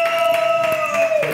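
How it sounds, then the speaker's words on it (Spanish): Studio audience clapping and cheering for a guest on a talk show, a short dense burst of applause with a whistle-like tone running through it. "Un aplauso para ella."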